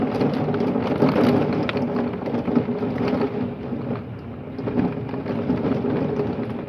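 Severe thunderstorm with heavy rainfall, marble-sized hail and mild wind gusts, recorded from indoors with a phone held close to a window: a loud, continuous roar of pouring rain with low rumbling throughout.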